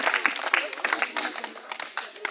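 A short burst of audience applause, many hands clapping together in a dense, fairly loud patter that stays even throughout.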